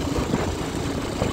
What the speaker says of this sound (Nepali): बाइक पनि मजाले कुद्छ हेर्नु। आवाज मजाले पड्काएर निकालेर कुद्दैछ